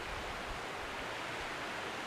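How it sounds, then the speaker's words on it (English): Succor Creek flows through a gorge far below, a steady broadband rush of moving water with no talk, constant and even in level throughout. "stream down there, I imagine that's Succor Creek."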